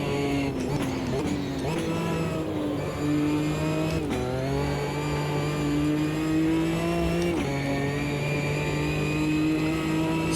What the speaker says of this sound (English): now we can really open the car up now that we've got some clean air